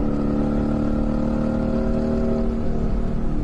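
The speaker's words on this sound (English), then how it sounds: "Those shift noises." Mercedes-AMG G63 engine pulling under acceleration, a steady loud roar with tightly spaced harmonics that slowly rise and fall between gear shifts, close by and without talk.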